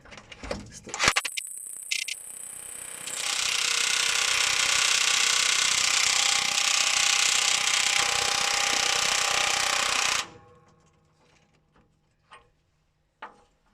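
A Makita impact wrench turning nuts runs in short bursts at first, then settles into one loud, sustained, buzzing and hammering run of about seven seconds before stopping, followed by a few faint clicks and knocks.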